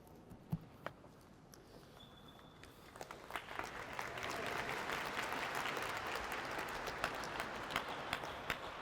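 Audience applause at a Catholic University law school commencement, starting sparse with a few scattered claps, then swelling into steady, sustained clapping from a large crowd in a hall.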